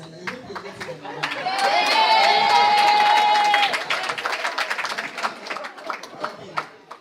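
Scattered audience clapping at an International Women's Day award ceremony, a fairly dense burst of claps mixed with crowd noise and a sustained whistle or cheer in the middle, thinning out to sparser individual claps toward the end.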